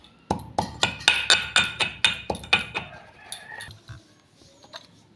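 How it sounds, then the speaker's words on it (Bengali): Naphthalene balls are pounded and crushed in a mortar and pestle, about ten sharp, evenly spaced knocks in a quick rhythm with gritty clinks, before the strikes fade into softer scraping. "দেওয়ার পর এগুলোকে হামাদিস্তায় ছোট্ট করে গুঁড়ো করে নিচ্ছি।"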